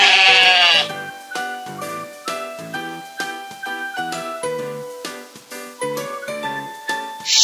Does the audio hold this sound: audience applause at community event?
no